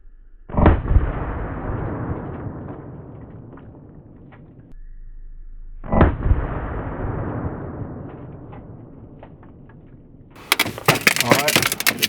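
Gunshots fired at bowling balls inside a microwave: two loud, sharp blasts about five seconds apart, each trailing off in a long echoing decay, followed near the end by a burst of rough noise.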